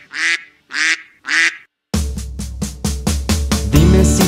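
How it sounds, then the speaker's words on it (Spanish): A duck quacks three times in evenly spaced, loud, close calls within a children's song, followed by a bouncy rhythmic musical accompaniment. "Dime si tú sabes cómo hace el pato, vamos a escucharlo tú y yo."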